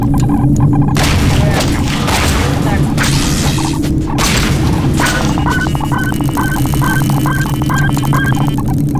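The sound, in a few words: flashbang grenade exploding in Garry's Mod video game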